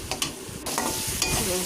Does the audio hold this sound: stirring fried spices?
yes